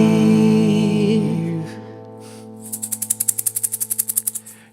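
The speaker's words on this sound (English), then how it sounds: "Shake that shaker." A handheld shaker is shaken in a steady run of about fifteen crisp rhythmic strokes that follow a sustained tone with a hummed melody over it, fairly close and clear.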